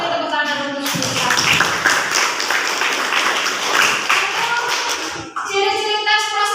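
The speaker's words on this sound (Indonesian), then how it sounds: "Beri tepuk tangan untuk mereka." Classroom applause from vocational aviation high school students, a loud dense burst of clapping that runs for several seconds between stretches of a teacher talking.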